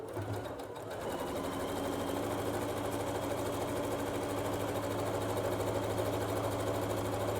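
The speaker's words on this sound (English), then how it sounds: "So now I'm going to set my machine to zigzag, and it's just the basic zigzag for my machine." A home sewing machine set to a basic zigzag stitches an edge for an envelope pillow, starting up after a brief pause and then running at a steady, continuous whirring hum close by.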